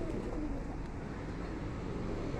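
Pigeons coo softly on a rainy day, low throaty calls under a steady patter of background noise.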